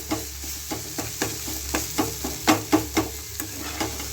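Vegetables fry in a pan with a constant sizzle while a spatula scrapes and taps in a regular rhythm, about two strokes per second.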